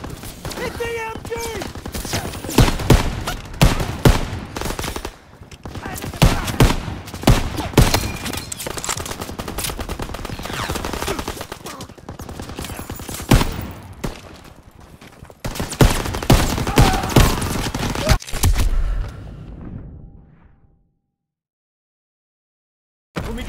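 Machine gun fire from a hayloft in the Call of Duty WW2 video game hammers in repeated loud bursts, mixed with shouted voices and battle noise, before cutting to silence near the end.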